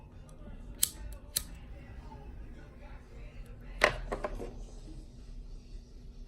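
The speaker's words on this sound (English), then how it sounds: "I'm just going around the ends of it and trying to trim it up" Scissors snip at the ends of a fishing rod guide tip on a Shimano Sellus rod, giving a few sharp, close cuts spaced apart against a quiet background.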